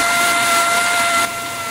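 Atlas Copco pneumatic pulse tool running flat out at maximum speed, a loud, steady high-pitched whine with an airy hiss that drops slightly in level near the end.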